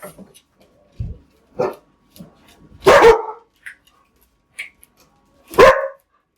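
A dog barks indoors in a handful of sharp, separate bursts spread across a few seconds, with a person's voice heard briefly between them.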